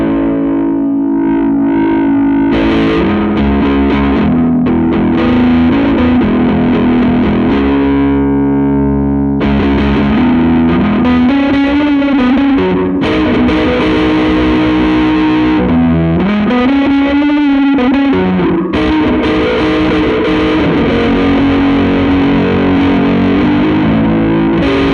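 Heavily distorted electric guitar through a distortion pedal at high gain, loud and continuous, with thick fuzzy chords and bending notes.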